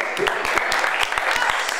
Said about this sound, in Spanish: Fuerte el aplauso, gente.